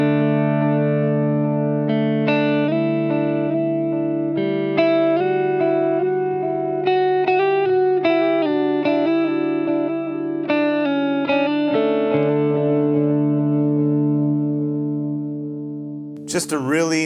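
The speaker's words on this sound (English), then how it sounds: "The tape is an emulation of an actual tape delay where the tape would kind of degrade as it keeps" TC Electronic Triple Delay pedal in tape delay emulation mode on electric guitar: a sustained, warm phrase of overlapping notes with blurred repeats trailing behind, fading out near the end, played alone.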